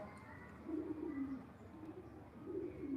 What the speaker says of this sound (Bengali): নিশ্চয় শুনতে পাচ্ছেন কবুতরের আওয়াজ